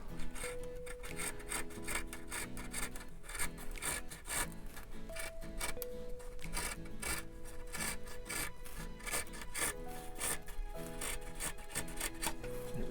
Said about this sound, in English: I'm going to go ahead and cut off the excess material